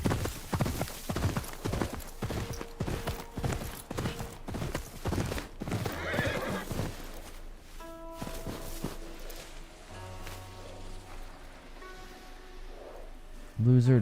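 Horse hooves clip-clopping at a run in the video game Ghost of Yotei, quick steady beats up close with a whinny, then fading as the horse moves off, with game ambience and a talking voice.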